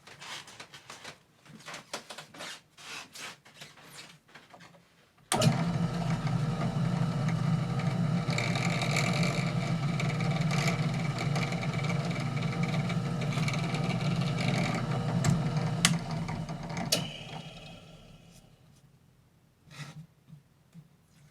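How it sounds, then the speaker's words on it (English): A power drill bores a hole through four small discs taped down to a surface, a loud steady whirring drone that starts abruptly after quieter handling sounds and runs for about twelve seconds before winding down. "When I'm drilling a hole through something small like this, I like to tape it down."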